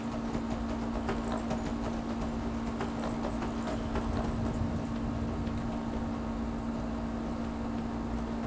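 Horse hooves clip-clopping as a rider travels in the video game Skyrim, a soft rhythmic trot under a loud, steady background hum.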